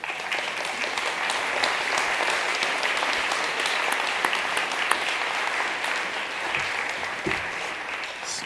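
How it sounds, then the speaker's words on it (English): Conference audience at the Glasgow Chamber of Commerce Congress of Business applauds steadily, a dense sustained wash of many hands clapping throughout the room with a brief voice near the end. "Let's give them a big round of applause."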